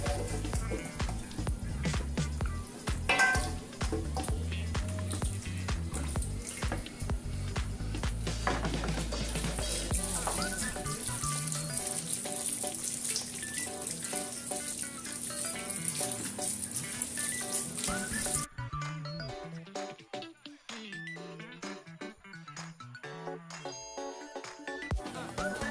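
Raw lamb pieces being rinsed by hand in a second wash of water, with steady splashing, sloshing and clinking against the bowl running throughout, loud at first and then thinner and more scattered toward the end.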